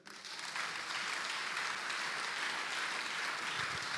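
A church congregation applauds the Lord, with sustained, dense clapping that rises quickly and stays loud and even throughout.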